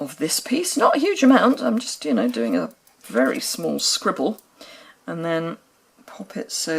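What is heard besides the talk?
None of the usual background noises is heard.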